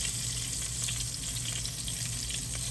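Shrimp fry in shallow oil, sizzling and crackling steadily in a pan, a constant close hiss with small pops throughout and no talking.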